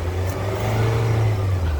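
A Nissan car engine with a CVT revs steadily at close range, a loud sustained low hum that holds its pitch for a couple of seconds.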